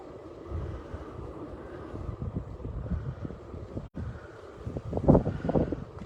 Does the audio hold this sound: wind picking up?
yes